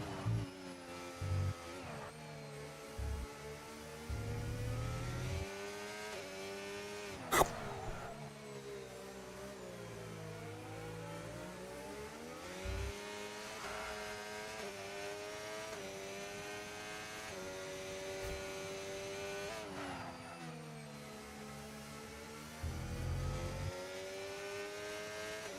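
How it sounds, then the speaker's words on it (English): Formula racing cars in a video game race on the San Marino circuit in wet conditions on intermediate tyres, a sustained high engine whine rising and falling through gear shifts and corners, with occasional louder passes and no talk. "He's struggling to wrangle his car and the corners a little bit as well."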